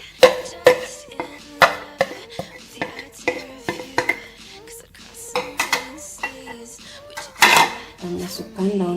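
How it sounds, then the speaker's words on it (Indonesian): Hands knead a mixture of mashed taro and ground spice paste in a bowl, making soft squelches and sharp clicks and knocks in an uneven rhythm, with someone talking between the sounds. "Kita uleni."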